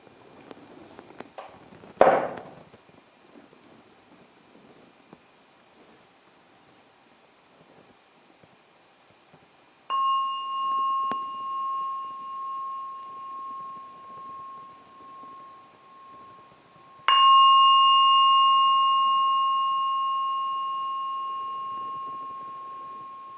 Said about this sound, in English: I'm now going to ring the gong 3 times.